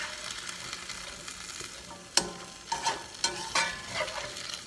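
Spanish chicken with green beans and mushrooms sizzling in a pan, with several distinct scraping stirs of a utensil against the pan over a steady quiet frying hiss.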